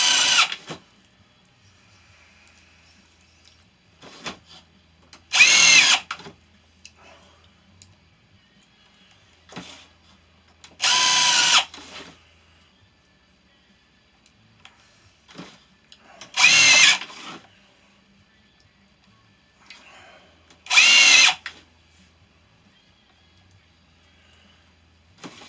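A power drill drives small screws into a lighted sign in five short buzzing bursts spread out over the stretch, loud and close, with quiet gaps and faint handling noises between them.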